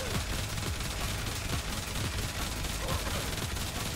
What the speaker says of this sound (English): So starting off, I'm just gonna do normal shots and no buffs.